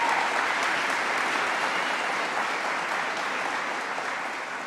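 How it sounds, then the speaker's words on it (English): An audience applauds at a public event, a dense, steady wash of clapping that tapers slightly toward the end. "Let's give her a round of applause."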